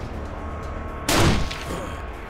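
A single burst of gunfire sounds in the game Wasteland 2 as a pistol fires, one loud broad blast lasting under half a second over a low background hum.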